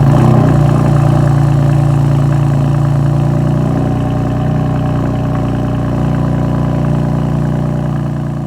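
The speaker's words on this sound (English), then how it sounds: "let me show you how this car sounds from stock" A 2018 BMW M4 F82 on its stock exhaust, without an OPF filter, idles close by: a steady, loud, deep engine burble holding even throughout, easing off slightly toward the end.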